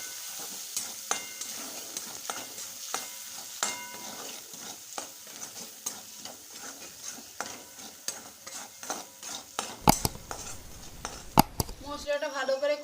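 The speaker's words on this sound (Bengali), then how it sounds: "মরিচ গুঁড়ো, লবণ, জিরে গুঁড়ো। ভালো করে নেড়ে নিতে হবে।" Chilli powder, salt and cumin powder fry in a pan while a spatula stirs them, rhythmic scraping strokes over a low sizzle with a few louder knocks near the end.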